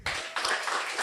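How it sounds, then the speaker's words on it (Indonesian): Audience clapping at a stand-up comedy show in Makassar, Indonesia, a short burst of dense, moderately loud applause from a crowd, heard alone without speech. "bisa minta tepuk tangan untuk Cusi Prime"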